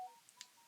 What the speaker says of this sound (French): bon, pardon pour mon son de téléphone